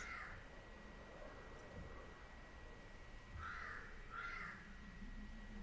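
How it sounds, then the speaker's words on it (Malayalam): A crow caws outdoors at a moderate distance, first one call and then two more close together later, over steady background hiss. "കാക്കച്ചി വീഡിയോ എടുക്കാൻ സമ്മതിക്കില്ല"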